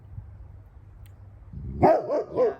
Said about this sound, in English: His name is Pelon, the dog